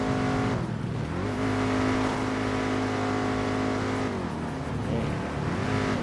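Car engine in GTA NoPixel with a sticky shifter stuck in third gear, revving loud and steady close up with sudden pitch drops and climbs as it fails to shift cleanly.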